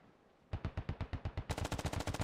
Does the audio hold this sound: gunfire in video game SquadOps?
yes